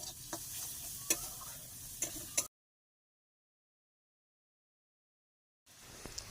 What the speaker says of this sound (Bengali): আর আমি একটু এখন কষিয়ে নেব পেঁয়াজগুলো